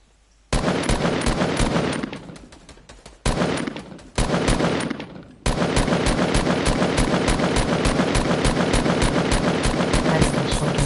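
Loud, rapid automatic gunfire in Fortnite Battle Royale comes in a few bursts with short pauses, then keeps going as one long unbroken stream of evenly spaced shots.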